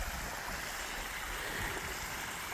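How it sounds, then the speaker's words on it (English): Running water of a small creek beside a coastal hiking trail, a continuous close rushing and gurgling wash that fills the scene steadily without breaks or voices. "I could hear running water, and it goes, I guess, this little creek."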